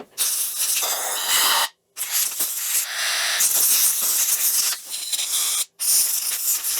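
Carb cleaner sprayed through a small Tecumseh engine carburetor from a Murray push mower: loud, close aerosol hissing comes in long bursts with two brief pauses between them.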